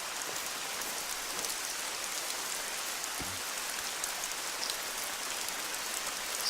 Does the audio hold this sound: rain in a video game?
yes